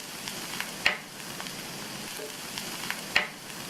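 Chopped vegetables soften as they sauté in a pan for a semolina breakfast dish. A low, even sizzle runs throughout, punctuated by two sharp clinks of stirring.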